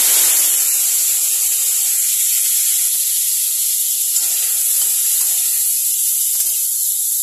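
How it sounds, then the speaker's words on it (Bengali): Potatoes and cauliflower pour into hot oil and set off a loud, steady hiss of sizzling that holds for several seconds, with faint clinks from the pan and no talk. "এখন আমি মেইনলি আলু আর ফুলকপিগুলোকে এখানে ঢেলে দেবো।"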